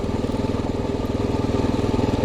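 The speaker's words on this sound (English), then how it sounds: "Got a Suzuki dirt bike up here." A Suzuki dirt bike engine runs loud and close with a steady, throbbing mid-pitched drone and no talking.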